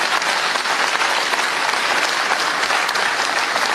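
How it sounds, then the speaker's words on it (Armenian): Applause for Bishop Mikayel Ajapahyan, head of the diocese, from an audience at an Armenian gathering: dense, steady clapping that holds at full strength for a few seconds, with no voices over it. "ծափահարություններ իրան"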